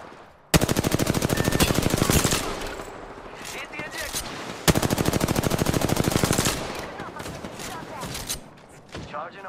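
Two long bursts of rapid automatic gunfire in Apex Legends, loud and close, separated by a gap with quieter shots and action noise, with voices faintly underneath.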